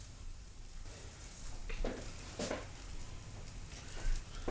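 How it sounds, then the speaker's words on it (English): Mushrooms sautéing in a pan for chicken marsala give a soft, steady sizzle with a few brief stirring scrapes, close and fairly quiet, with no talking. "So we'll saute these."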